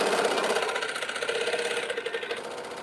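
Needle of an old quilting sewing machine clapping in a steady rapid mechanical ratchet-like clatter, close and continuous, easing slightly toward the end, with no talking.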